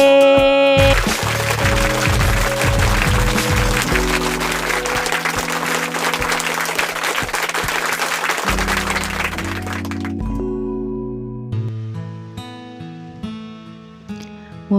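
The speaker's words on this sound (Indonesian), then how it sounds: "aplaus dulu dong untuk Pak Muhari dan Pak Abdillah Arif" A crowd applauds for two facilitators, with dense, loud clapping for several seconds over steady background music, then the clapping fades and the music carries on alone.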